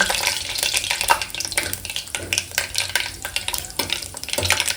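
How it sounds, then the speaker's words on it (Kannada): Cashews fry in hot oil for tomato bath, a continuous close crackling sizzle with intermittent scraping as they are moved around the pan. "ಗೋಡಂಬಿ ಹಾಕೊಂಡು ಸ್ವಲ್ಪ ಗೋಲ್ಡನ್ ಬ್ರೌನ್ ಬರೋವರೆಗೂ ಫ್ರೈ ಮಾಡ್ಕೊಳನ್ರಿ ಅವನು"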